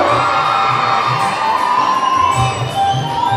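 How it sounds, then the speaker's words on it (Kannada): A crowd at the launch of a large job fair in Mysore cheers and whoops in welcome, a loud, dense mass of voices with shrill shouts rising over a steady din. "ಭರಪೂರ ಚಪ್ಪಾಳೆಗಳ ಸ್ವಾಗತ ಗೌರವ."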